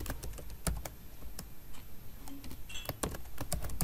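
Code being typed on a computer keyboard, a steady run of close, crisp key clicks with irregular rhythm and a few louder strikes, heard alone without speech.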